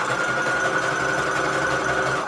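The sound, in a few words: sewing machine doing zigzag stitch on paper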